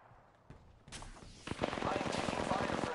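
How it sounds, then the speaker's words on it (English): Gunfire in Apex Legends crackles in rapid bursts, starting with a couple of isolated shots and building into dense, loud rattling volleys over the last half of the moment. "I am taking fire, friends."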